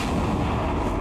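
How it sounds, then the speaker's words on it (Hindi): A loud, dense blast from a plane crash explosion caught on CCTV, heard as a continuous heavy roar with booming low rumble filling the whole short stretch. "प्लेन में जोरदार धमाका हुआ"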